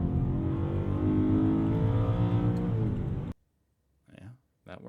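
A car accelerates while merging onto an American highway, its engine rising in a steady, loud drone for about three seconds before it cuts off abruptly, followed by brief bits of speech.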